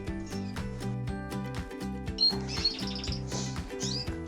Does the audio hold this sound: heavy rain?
no